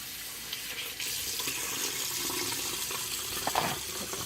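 Water runs steadily from a tap while hands are rinsed at a sink, a soft continuous hiss and splash at moderate distance, with faint movement in the stream near the end.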